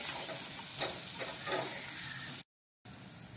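Onion sautéing in a pan for a Bangda mackerel curry, a steady close sizzle with light stirring, cut by a brief silent gap before the frying resumes.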